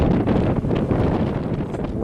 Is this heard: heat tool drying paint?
no